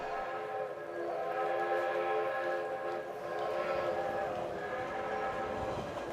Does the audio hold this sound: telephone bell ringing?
no